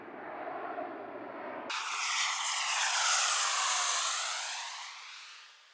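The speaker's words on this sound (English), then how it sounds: "And I'm going to wait for this plane to go over." An airplane passes overhead near an air base, a loud broad engine roar that swells and sweeps downward in pitch as it goes by, then slowly fades, with no talking.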